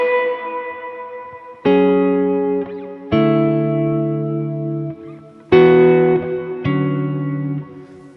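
Electric guitar played through a Line 6 Helix shimmer reverb: five sustained chords struck one after another, each ringing with bright, octave-shimmering reverb tails that slowly decay, clear and alone without voices.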